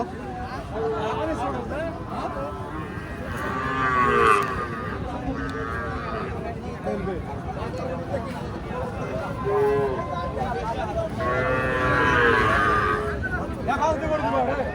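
Calves moo at a crowded qurbani cattle market, their drawn-out calls rising at intervals under constant talk and crowd babble.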